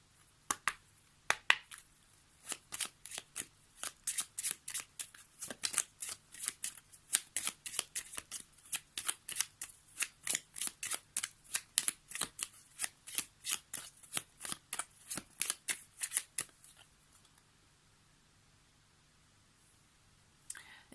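Tarot cards are shuffled for a yes/no draw in a long, fast run of crisp, close papery flicks and riffles lasting about seventeen seconds, then the shuffling stops and near silence follows.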